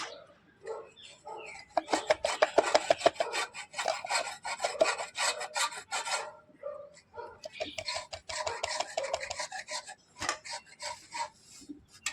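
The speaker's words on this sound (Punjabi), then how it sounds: "ਲਓ ਜੀ ਨੂੰ ਆਪਾਂ ਕੱਦੂਕਸ ਕਰ ਲੈਂਦੇ ਆ" A home-remedy ingredient for cold relief rubbed against a kitchen grater, making close, steady rasping strokes in two long runs separated by a short pause, with a few scattered scrapes at the end.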